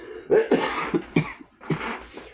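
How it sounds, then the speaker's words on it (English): A close-up fit of coughing after vaping, several harsh rasping coughs in quick succession with a short pause before a final cough. "It got a cough out your boy."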